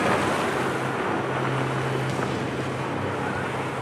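Storm at sea with winds over 50 knots and waves up to 5 metres battering a vessel on the Shackleton expedition, a steady, dense roar of wind and surging water with a low engine-like hum, no voices.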